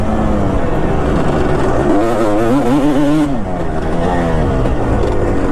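A 2005 Kawasaki KX250 two-stroke motocross bike roars loud and close, its engine note wavering up and down in pitch as it revs and rides.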